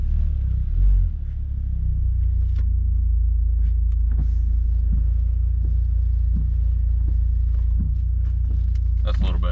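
Volvo XC70 on a test drive, its interior filled with a steady low road and engine rumble and faint clicks and creaks, with a brief bump near the end.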